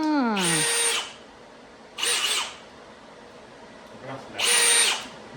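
Milwaukee brushless cordless drill revved in three short bursts with a spin-up whine, loud and close with quiet gaps between; a voice speaks nearby.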